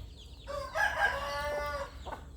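A Burmese rooster crows once at a farm, a loud, close, drawn-out call lasting over a second, with faint clucking from other chickens around it.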